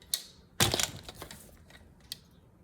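Paper being cut for a scrapbook folio made from 12x12 sheets, a few sharp close snips and crackles, one dense burst followed by lighter scattered cuts.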